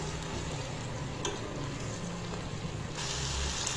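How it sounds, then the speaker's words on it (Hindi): Spices fry in hot oil for a simple tadka for egg rice, a steady close sizzle with stirring scrapes running throughout and no talking. "फ़िलहाल यहाँ पर सिंपल सा तड़का लगा"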